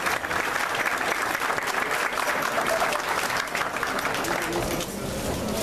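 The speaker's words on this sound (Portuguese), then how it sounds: "de uma salva de palmas ao nosso prefeito" At an urban mobility seminar, an audience applauds the arriving mayor of Niterói, with dense, steady clapping filling the room for several seconds and easing slightly near the end.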